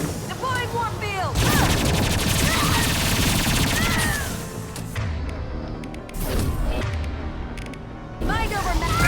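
High impact shots fired in Mass Effect 2, loud, close, sharp bursts of gunfire amid a crowded battle mix with clangs and impacts, and voices calling out over the shooting.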